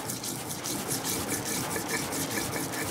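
Spice paste with salt is ground on a stone shil-pata slab for Bengali bhetki paturi. A steady, rhythmic scraping rub goes back and forth in even strokes, close and continuous, with no talking.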